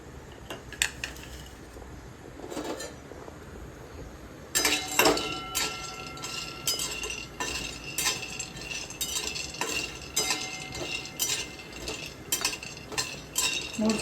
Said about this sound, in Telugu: ఈ పోపు సామాన్ని వేయించుకోవాలండి